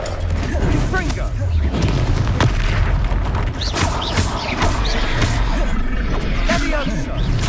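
Confringo fire spell explosions in the video game Hogwarts Legacy, heavy booming blasts and crashing impacts layered over a dense, constant wash of game effects and score, loud throughout with sharp bursts near the start and middle.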